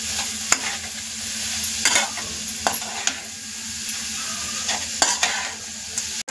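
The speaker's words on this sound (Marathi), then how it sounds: "आणि तेलामध्ये आपले गाजर फ्राय करून घेऊया 2 मिनिटं।" Grated carrots sizzling and being stirred in hot oil in a pan for carrot halwa, a steady loud fry with repeated scraping stirs of the spoon throughout.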